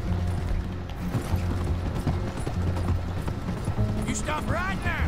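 Horse hooves clip-clop steadily in Red Dead Redemption 2, a rhythmic mid-level trotting over game ambience with some mechanical creaks, and someone talks over it.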